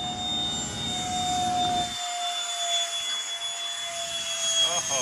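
A jet aircraft, apparently a model plane with landing gear trouble, flies past with a steady whining engine tone and a falling pitch, loud and continuous throughout.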